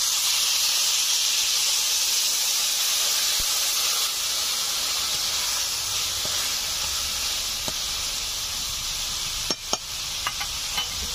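A loud, steady sizzling hiss as water hits a hot pan of fried spices and ground masala, holding nearly constant for the whole stretch, with a few small clinks and stirring taps near the end.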